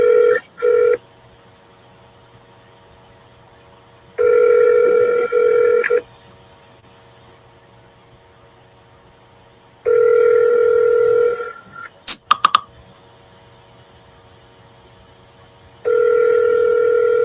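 Outgoing phone call ringing unanswered, with a near, loud electronic ringback tone sounding in separate bursts about every six seconds, the quiet gaps between holding faint line noise and a few brief clicks.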